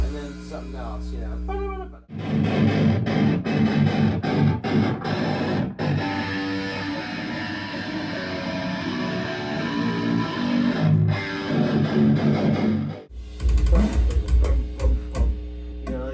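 Loud, heavily distorted electric guitar in a metal tone, chugging through a dense riff, with abrupt stops and restarts between sections.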